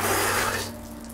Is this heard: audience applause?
no